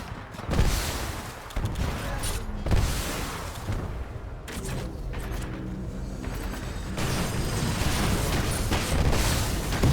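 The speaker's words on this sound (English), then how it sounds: "This shoulder-mounted rocket pod will lock onto multiple enemy targets." A shoulder-mounted Acolyte rocket pod on a Titan in Titanfall 2 fires in repeated loud bursts of launches and booming impacts, with mechanical clatter between volleys and a denser barrage building toward the end.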